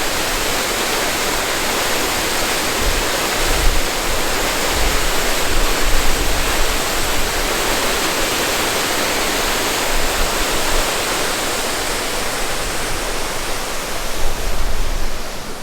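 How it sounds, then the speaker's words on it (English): Sioux Falls waterfall in South Dakota in winter, partly frozen, gives a loud, steady broadband roar of rushing water that holds unbroken throughout, with no voices. "this is the famous Sioux Falls frozen waterfall here in the wintertime"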